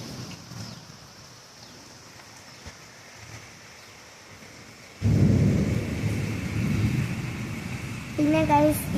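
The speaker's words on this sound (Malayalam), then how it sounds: "ഇടിയും വെട്ടുന്നുണ്ട്, മിന്നലും വെട്ടുന്നുണ്ട്, മഴയും വരുന്നുണ്ട്" A thunderstorm with heavy rain starts as soft, steady rainfall, then a loud, rolling thunder rumble breaks in about midway and continues with the downpour, and a voice speaks briefly at the end.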